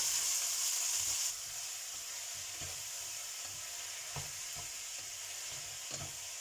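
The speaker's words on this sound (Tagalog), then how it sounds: "So ngayon guys, gisa ko muna itong dalawang pack na ground beef." Two packs of ground beef sauté in hot oil in a pan, giving a steady close sizzle and hiss with occasional soft scraping stirs, heard alone without speech.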